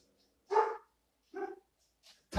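Dog barking indoors at home: two distinct barks about a second apart, then a faint third and a sharp burst at the end, close and clear against near silence.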